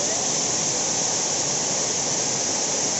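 Alakapuri waterfall, running lower than usual, gives a steady, dense rushing roar at close range that stays even and unbroken throughout, with no voices.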